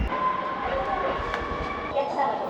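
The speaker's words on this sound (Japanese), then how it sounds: "2両編成の電車が帝国通り出発。" A two-car train on the non-electrified single-track Karasuyama Line rumbles along with a steady mechanical hum and faint whine, wheels clattering softly underneath as it pulls away from the station.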